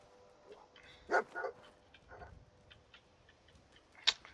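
A dog in the video game Fallout 4 gives a couple of sharp barks and yips at moderate distance, with light ticking and faint ambience between them.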